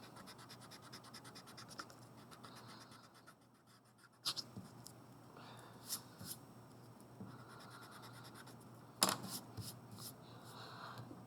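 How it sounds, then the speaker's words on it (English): A rubber eraser scrubs pencil lines off paper after hatching-shaded apple drawing, giving soft scratchy rubbing in intermittent bursts with a few sharper scrapes, close and fairly quiet. "take your eraser and erase those"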